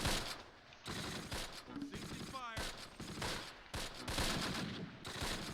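Continuous bursts of rifle and machine-gun fire from the Close Combat Last Stand Arnhem war game, set at Grafwegen in September 1944, rattle steadily as dense, overlapping volleys.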